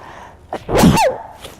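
A single loud sneeze, a sharp burst preceded by a short intake of breath, close by and otherwise quiet.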